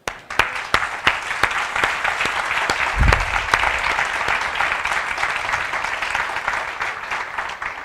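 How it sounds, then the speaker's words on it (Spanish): Audience applause at a lecture, with a steady dense roar of clapping lasting several seconds, a few sharp loud claps standing out near the front and a brief low thump midway. "si alguien de verdad se merece el aplauso"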